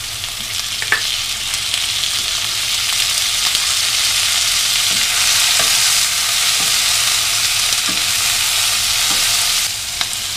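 Tomatoes and beef fry in oil in a pan for a Cantonese homestyle dish, giving a loud, steady sizzle that runs throughout with a few faint knocks from stirring and no voices.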